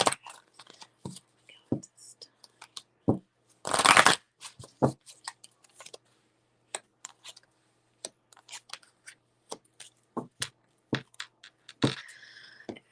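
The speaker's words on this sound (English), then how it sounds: "So let me shuffle the cards." Tarot cards shuffled by hand at close range, giving soft papery flicks and taps scattered over several seconds with one dense riffling burst, while a person speaks quietly at times.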